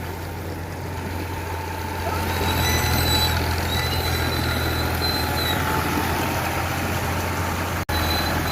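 Diesel tractor engine running steadily in a village, a loud continuous low rumble with a strong steady drone that grows slightly louder after two seconds and keeps going throughout, with a brief dropout near the end and no talk.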